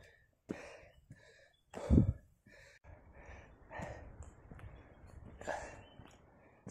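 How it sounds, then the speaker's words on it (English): Heavy, labored breathing close to the microphone while hiking to Strath Creek Falls, Victoria, with deep uneven breaths and one loud huff, over faint warm outdoor ambience. "Sorry about my heavy breathing."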